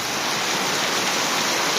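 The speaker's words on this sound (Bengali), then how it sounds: "কালকে সারা রাত থেকে এখনো পর্যন্ত যে বৃষ্টি হইতেছে" Heavy rain pours steadily after a whole night of downpour, a dense, loud, unbroken hiss with no other sounds on top.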